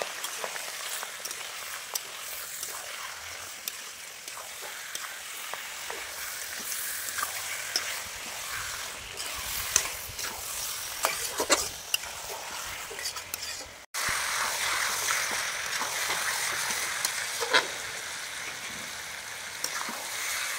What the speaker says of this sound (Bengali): হলুদ গুঁড়ো, ধনে গুঁড়ো দিয়ে এখন আমি কষিয়ে নেব ভালো করে।